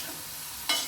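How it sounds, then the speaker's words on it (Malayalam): A spoon stirs green bean thoran in a pan, giving a soft, close scrape with a faint sizzle that ends in a brief louder swish. "പയറ് തോരൻ ഞാൻ ഇളക്കി വാങ്ങുവാണേ"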